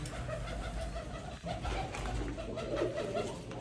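Steady pigeon cooing fills the clip, low soft murmuring calls repeating under a constant background hum, fairly close.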